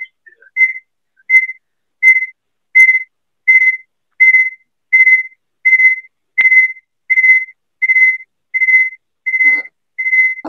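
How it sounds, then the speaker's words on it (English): Fifteen identical high-pitched electronic beeps repeat at a steady, even pace, loud and clear against near silence. "Can somebody stop the beeping, please?"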